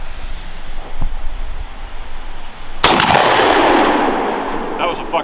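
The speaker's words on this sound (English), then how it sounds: "one shot, Federal flight control" A shotgun fires a single load of Federal Flight Control buckshot outdoors, one sharp, loud blast midway that rings and decays over a couple of seconds, preceded by a faint thump and background rumble.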